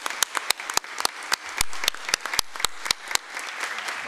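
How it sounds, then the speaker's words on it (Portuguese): Scattered applause from a small group at a formal legislative assembly session, distinct sharp claps standing out over a softer bed of clapping, continuing for about four seconds. "Vou dar uma salva de palmas para esse homem aí."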